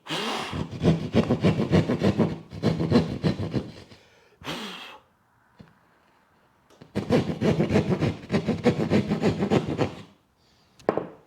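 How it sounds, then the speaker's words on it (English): A drywall saw rasps through drywall in quick back-and-forth strokes, three loud bursts of rapid sawing separated by pauses, close by with no talking. "then go after it with your drywall saw"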